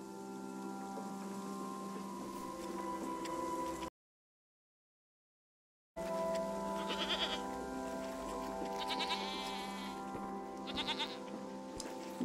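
A goat on a fruit farm bleats several times, wavering calls rising over a steady background drone, with a short silent gap partway through and no speech.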